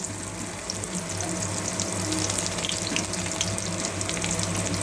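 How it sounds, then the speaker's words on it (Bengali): Chopped onion frying in oil left over from frying fish, a steady broad bubbling sizzle that stays even and close throughout, with no talking. "মাছ ভাজা তেলের মধ্যে আমি কুচনো পেঁয়াজ দিয়ে দিলাম"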